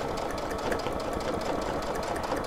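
Sewing-machine stitching with the presser foot raised to a higher position for ruler work, a continuous, even mechanical whirr with a fast rhythmic needle beat throughout, close and steady with no voices.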